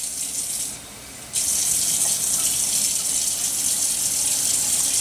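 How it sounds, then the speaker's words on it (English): Cold water poured from a tap into the doughy blackberry cobbler mix in the kitchen, a steady close gushing stream that briefly drops, then resumes stronger and continues evenly. "To that we want to add 1/3 cup of cold water"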